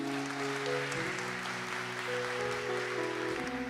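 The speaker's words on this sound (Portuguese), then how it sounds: "Você pode dar um aplauso para o Israel?" Steady applause from a crowd, with sustained musical tones running underneath throughout.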